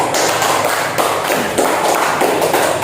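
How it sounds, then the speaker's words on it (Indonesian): Classroom pupils clap steadily for a group's presentation on changes in states of matter, a loud, close, continuous patter of many hands with no talk. "mari tepuk tangan dulu untuk penampilan kelompok."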